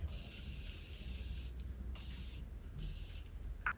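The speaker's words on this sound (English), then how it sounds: "So I'm gonna spray this on my face real quick." Three short bursts of makeup setting spray hiss onto a face, each a breathy pump-spray puff separated by brief pauses, close and clear with no talking.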